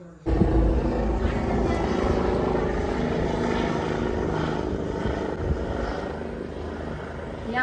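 A helicopter flies near Sindhanur, its loud, steady rotor and engine roar filling the whole stretch with rough, continuous throbbing.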